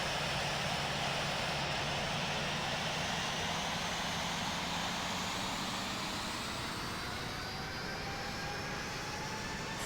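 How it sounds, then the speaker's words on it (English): A WestJet Boeing 737-800 makes its takeoff roll in the Infinite Flight game at Palm Springs, jet engines rising in a steady loud roar with a slowly climbing whine throughout, no talk. "And before we knew it, takeoff roll had started."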